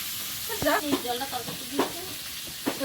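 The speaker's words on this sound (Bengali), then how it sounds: "আমি বড় দাদনা মাছ ভাজছি" Large dadna fish frying in a pan, a steady close sizzle and hiss under a voice speaking intermittently.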